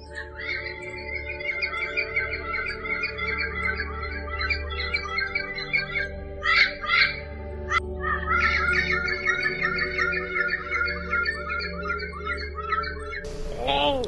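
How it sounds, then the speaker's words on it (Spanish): Birds sing and chirp in a fruit-tree yard, a steady layer of calls and tweets throughout with a few louder squawks, continuous and moderately near. "los pájaros, antes escasos, ahora cantaban y llenaban el ambiente del patio con sus hermosas melodías"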